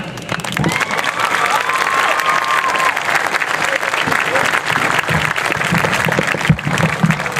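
A crowd at a youth football league opening ceremony applauds and cheers its cheerleading and football coaches of the year, with sustained dense clapping, whoops and a voice or two over it throughout.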